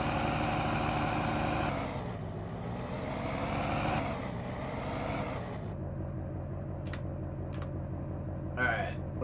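Steady low truck engine idling in Farming Simulator 19, with a harmonic hum that shifts pitch a few times, a voice speaking over it, and small clicks.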